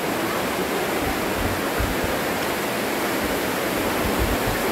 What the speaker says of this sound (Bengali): এখান থেকে টপ টপ করে জল পড়ছে নিচে।